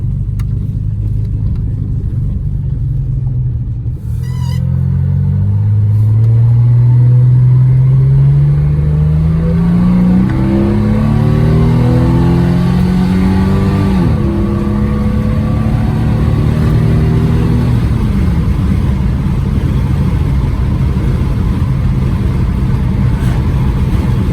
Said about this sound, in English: Successful test drive.